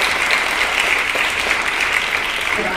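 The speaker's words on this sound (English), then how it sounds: "let's give everyone a round of applause" A school scholarship assembly audience applauds steadily, a dense, even wash of many hands clapping throughout without a break.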